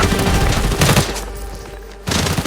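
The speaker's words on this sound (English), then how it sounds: "Suppressing fire!" Suppressing gunfire in the shooter game Arena Breakout crackles in loud, rapid bursts, breaks off briefly, then resumes close and harsh.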